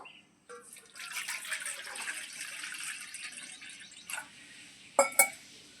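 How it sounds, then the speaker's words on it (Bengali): Water is poured into a bowl before rice flour goes in for rice papad, a soft trickling splash lasting a few seconds, then a couple of sharper drips and clinks near the end, quiet and close. "দেখুন আমি একটা বাটি নিয়ে নিয়েছি এর মধ্যে আমি কিছুটা জল দিয়ে দেবো"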